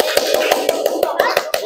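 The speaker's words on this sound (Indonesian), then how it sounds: "tepuk tangan buat kelompok 2" Rhythmic, evenly spaced group clapping from a class of children, about ten sharp claps at a steady beat, close and fairly loud over a faint background hum.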